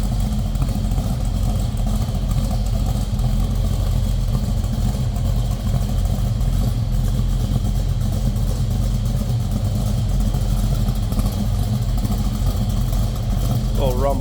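A 1968 Chevrolet El Camino SS with a big-block V8 idles with a deep, steady rumble. The engine note holds constant and loud throughout, with no revving, and a voice speaks faintly over it.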